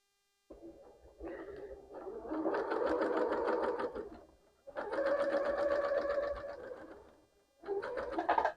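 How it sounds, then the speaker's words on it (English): Domestic sewing machine stitching a mitered corner on a quilt border, running in steady whirring bursts of a few seconds each with brief pauses between, close and clear. "I'll put my foot down, and we're going to start sewing this."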